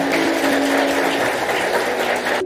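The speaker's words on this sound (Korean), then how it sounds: "다시 한번 아버님께 큰 박수 보내주시길 바랍니다" Wedding guests give the bride's or groom's father a round of applause: dense, steady clapping from a full hall that holds evenly for about two seconds, then cuts off abruptly.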